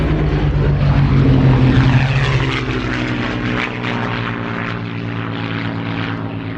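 Propeller aircraft flying over Old Warden airfield, a steady loud engine drone that swells briefly then eases slightly as it passes, with no voices.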